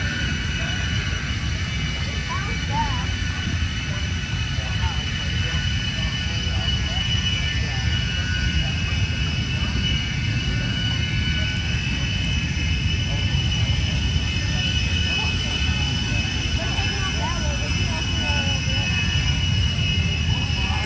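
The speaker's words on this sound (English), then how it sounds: "Something big is about to start. It's a Tucano replica." A Tucano replica aircraft engine runs at Oshkosh, a steady, loud turbine-like roar and whine lasting the whole stretch, with crowd chatter faintly mixed in.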